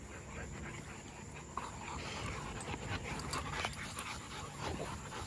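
A muscular puppy pants steadily while gripping a basketball in its mouth, the breathy huffs close and continuous over a background hiss.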